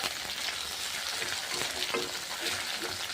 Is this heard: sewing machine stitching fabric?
no